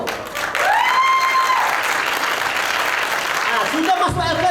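Audience at a corporate seminar opening speech breaks into steady, loud applause that fills the room for several seconds, with a faint voice underneath and the clapping trailing off at the end.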